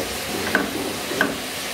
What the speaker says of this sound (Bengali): তাই পেঁয়াজ ভাজা হচ্ছে